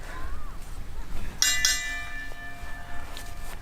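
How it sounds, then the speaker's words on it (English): A wrestling referee rings the ring bell at the end of a match, giving one bright metallic clang midway that rings on and decays slowly over low crowd noise. "As the referee goes to ring the bell"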